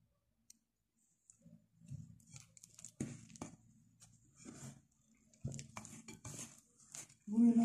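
Ingredients for a no-bake halazoun cake are stirred in a bowl: intermittent clinks, taps and scrapes of utensil against the bowl come in short bursts between quiet pauses, with a voice briefly audible.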